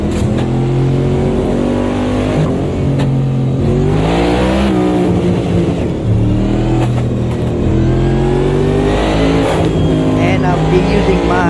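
Race car engine in Automobilista 2 at Daytona International Speedway, a NASCAR-style supercharged car running a rolling start. The engine drones loud and steady throughout, its pitch swelling and dipping with throttle, with a voice talking over it.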